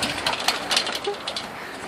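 An old, slightly rusty push reel lawnmower is moved along, giving a close, steady clattering rattle with small metallic clicks throughout.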